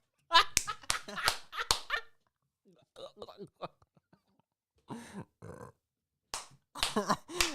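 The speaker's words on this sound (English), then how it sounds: "I keep burping, man." A man burps repeatedly during a late-night livestream, with several short guttural bursts at the start, more after a pause and a final cluster, close and fairly loud with talk between.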